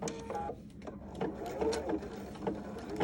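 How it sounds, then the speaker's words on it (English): A sewing machine stitching a zipper with a mega piping foot, a soft close mechanical whir with rhythmic needle clatter in short runs, low in level, with a voice faintly under it. "now I'm just going to sew it together"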